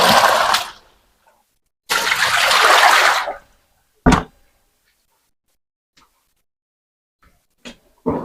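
Liquid from tofu making is poured into a bucket in two splashing bursts, the second longer, followed by a brief slosh and a few faint knocks against the bucket in otherwise quiet surroundings.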